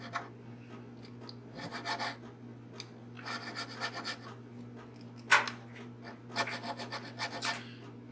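A metal file rasps across the sharp, protruding fret ends of a Cort Retro 4 jazz-style bass whose fingerboard wood has shrunk, in short repeated scraping strokes that are close and fairly quiet, separated by brief pauses.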